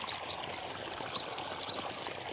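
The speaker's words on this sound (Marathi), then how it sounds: "असं प्रेशरने पाणी चालू आहे" Irrigation water rushes steadily under pressure through a wheat field on a cold early morning, a continuous close hiss and trickle with faint bird chirps.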